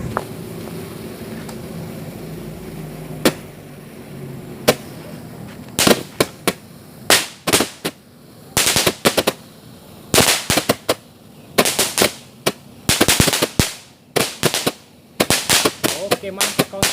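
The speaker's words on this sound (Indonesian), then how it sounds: "yang pertama kita cobain mercon shootball 4 piece" A four-piece shootball firecracker set goes off in a rapid, irregular string of loud sharp bangs after a few quieter pops, bursts clustered close together and ringing near.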